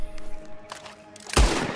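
A gunshot cracks in the video game Red Dead Redemption II, a loud, sharp blast near the end after a fainter, muffled thump.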